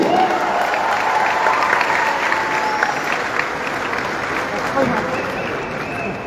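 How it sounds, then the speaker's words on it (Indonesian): A large crowd of supporters claps at a political rally for Anies Baswedan, sustained dense applause filling the space from start to finish. "Tepuk tangan untuk semua yang hadir di sini."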